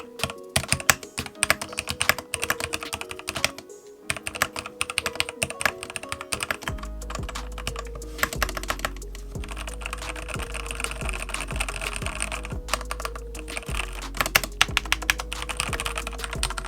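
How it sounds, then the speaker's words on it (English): A Keychron K8 mechanical keyboard with brown switches is typed on continuously and quickly, with dense, close keystrokes and a low steady hum underneath partway through. "So I opted for the brown switches, and here's the typing experience."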